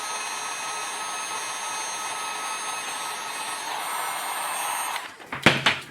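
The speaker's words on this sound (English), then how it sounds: "Like I said with the heat gun, you just want to just get them warm enough where they pop off." Heat gun blowing on action figure feet to loosen them, a steady close whooshing fan roar that cuts off near the end, followed by a few brief handling knocks and clicks.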